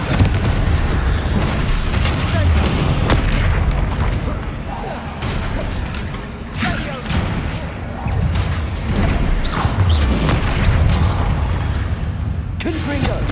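Confringo fire-blast spells and explosions in Hogwarts Legacy, repeated booming bursts through a busy battle with spell casting and constant game noise, and voices shouting over it.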